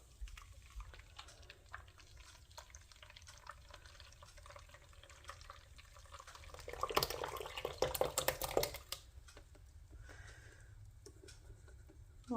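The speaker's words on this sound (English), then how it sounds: "I'm just going to pour this in." Liquid pours and splashes softly through cheesecloth for a couple of seconds, then trickles and drips faintly as it drains, all quiet and close.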